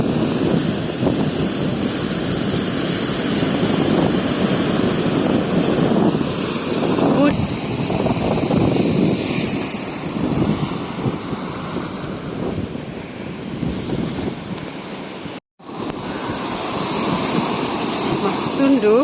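Sea waves breaking and washing onto a beach, a steady broadband roar of surf with gusting wind over the microphone, continuous and loud throughout with a brief dropout near the end.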